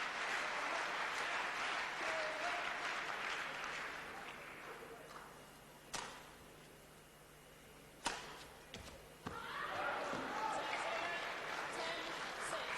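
Indoor crowd in Denmark applauding Sarwendah at the 1991 Badminton World Championships, sustained clapping that dies down, a couple of sharp shuttle hits during a quiet rally, then applause swelling again.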